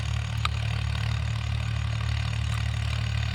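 A ploughing tractor chugs along a farm field, its engine a close, continuous low drone with a faint rise in revs and a couple of light clicks, no speech.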